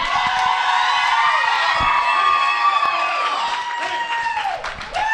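A wrestling crowd cheers and shouts loudly throughout, a dense roar of voices with whoops and scattered clapping filling the space.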